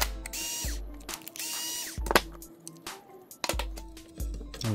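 A screwdriver drives the servo screws on an MST RMX 2.0 RC car chassis, making several short mechanical whirring bursts separated by brief pauses and small clicks, close and fairly quiet.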